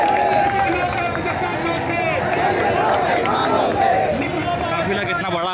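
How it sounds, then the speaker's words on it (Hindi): A large crowd of Bhim Army supporters fills an outdoor rally in Madhya Pradesh with dense, continuous babble and shouting, loud and close throughout, with chanting voices rising over the steady hubbub. "पूरे देखिए जन सैलाब"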